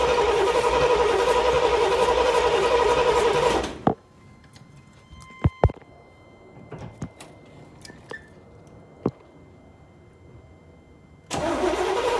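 A 1979 Corvette with an L82 V8 fires up after a carburetor rebuild, running loud and rough for several seconds before cutting out, then scattered clicks and knocks until it roars back briefly at the end.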